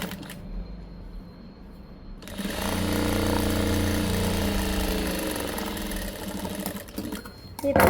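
Sewing machine stitching a frock sleeve, starting after a quiet moment with a loud, continuous mechanical whir of fast needle strokes that runs for several seconds, then slows and stops, with a brief voice near the end.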